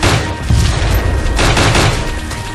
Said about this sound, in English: Throwing frag in front of the hospital.